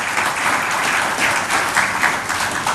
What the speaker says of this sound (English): Let us appreciate him with a better round of applause.